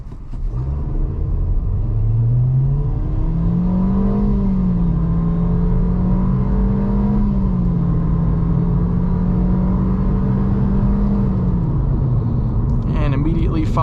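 A 2024 Nissan Versa SR with a naturally aspirated 1.6-liter four-cylinder accelerates hard from inside the cabin, its engine note climbing and then holding a loud steady drone before easing off near the end.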